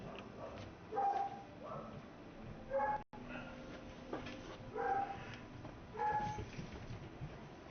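Puppies barking and yipping in short bursts, a few quick calls at a time in a steady rhythm, at a moderate distance with background noise around them.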